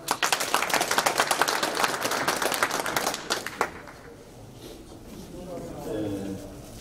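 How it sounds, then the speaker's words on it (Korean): Audience applause at a church assembly hall, a dense burst of many hands clapping that fades out after a few seconds, followed by a voice speaking over a quiet room. "이제 축사부터는 박수를 좀 힘차게 치셨으면 좋겠습니다"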